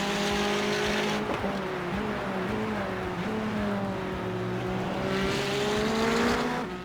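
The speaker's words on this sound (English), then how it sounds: "I get an earful of that McLaren snarling up behind me" A McLaren GT4 race car engine in the racing game iRacing at The Bend snarls continuously at high revs with rising and falling pitch, loud and close, with faint tire noise.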